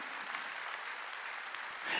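A church congregation claps together in sustained applause during a Sunday worship service, a dense, even patter of many hands that swells slightly toward the end.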